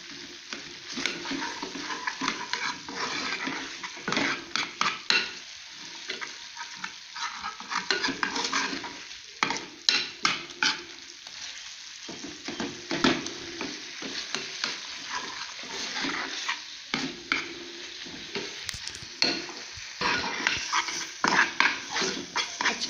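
Aloe vera being stir-fried in ghee in a karahi, with a steady sizzle under repeated scraping and clanking of a spoon against the pan, close and moderately loud throughout.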